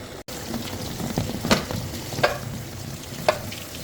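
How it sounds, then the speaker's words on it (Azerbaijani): Rose petals are pounded in a mortar and pestle, producing three distinct, irregularly spaced strikes over a steady background hiss. "Sonra bu cür həvəng dəstədə döyəcəyik."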